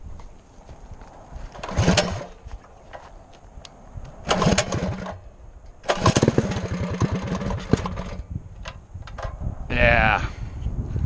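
Mini bike engine on a desert cliffside trail, with loud bursts of revving separated by quieter idling stretches, close and rough, and a voice briefly heard near the end.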